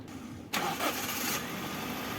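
A Toyota Vios car engine cranks and catches, then settles into a steady idle, heard close and without talk.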